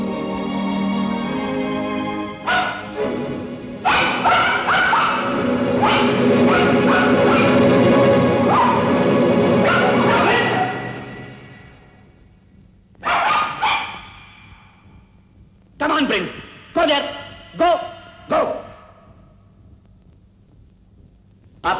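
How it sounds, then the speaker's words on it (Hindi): Palace dogs barking in a rapid, loud chorus for about ten seconds, then fewer, sharper barks come in separate bursts after a short lull. "ये महल के कुत्ते हैं, भौंकते हैं काटते नहीं।"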